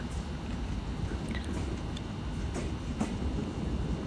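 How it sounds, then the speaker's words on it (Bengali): Benapole Express passenger train running from Benapole toward Dhaka, a steady low rumble heard from on board with faint rail clatter and a few light clicks. "ট্রেনটি হলো বেনাপোল এক্সপ্রেস বেনাপোল থেকে ঢাকার উদ্দেশ্যে ছেড়ে আসছে"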